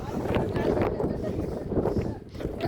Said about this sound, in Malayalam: നല്ല കാറ്റ്, നല്ല സുഖമൊക്കെ ഉണ്ട് കേട്ടോ.